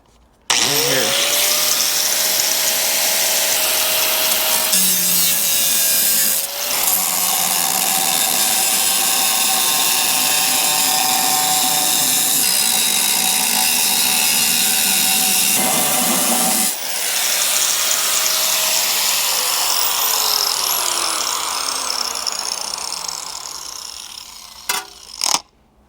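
A power tool with a cutting wheel grinds through scrap metal during an engine swap, a loud, continuous high-pitched whine that winds down near the end.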